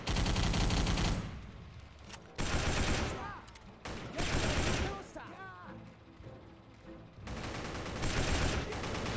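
Rapid bursts of BAR automatic rifle fire in the Xbox 360 game Battle for the Pacific, Iwo Jima level, loud and close, in several long volleys separated by brief pauses with some gunfire echoes and mechanical clatter.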